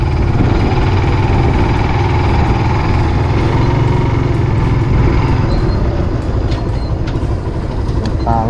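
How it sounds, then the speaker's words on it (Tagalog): A motorcycle engine runs steadily and loudly at close range with a rough, uneven rumble, continuous through the whole stretch alongside faint background noise. "Pangit na tunog ng motor."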